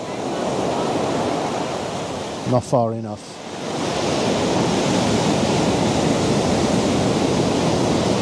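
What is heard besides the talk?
ocean waves rolling in at the shore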